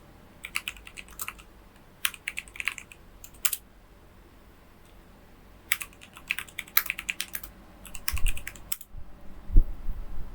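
A computer keyboard clatters in quick bursts of keystrokes while Python code is written, the close, crisp clicks coming in clusters separated by quiet pauses.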